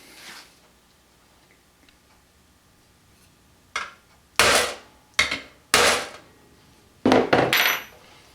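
A hammer taps a center punch into the metal lid of a lunch box guitar build, five or six sharp, loud strikes at uneven intervals after a quiet stretch.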